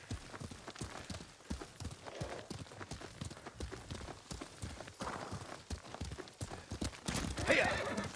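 Horse hooves in the Ghost of Tsushima video game, a rapid, rhythmic clip-clop of a galloping horse, fairly faint and steady, with a horse neighing near the end.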